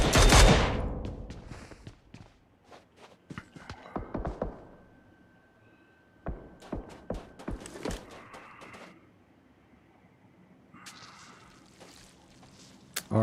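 Long-range gunfire in PUBG Mobile: bursts of distant rifle shots and rapid fusillades crackle on and off, some sharp and near, others thin and far, with quiet gaps between volleys.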